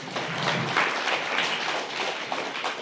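Audience applause welcoming the Paul MSR charitable trust at an education welfare-scheme ceremony at the Meenakshi Amman Sokkanathar temple, a steady, dense wash of many hands clapping throughout, fairly close and without talk.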